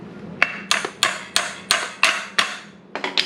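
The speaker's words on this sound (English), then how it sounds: "that's why I use a hammer on it" Hammer striking an old, worn saw to lock its adjustment: about eight sharp metallic taps at a steady, slightly uneven rhythm, close and loud, ending in a quicker pair of hits.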